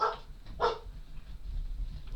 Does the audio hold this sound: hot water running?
no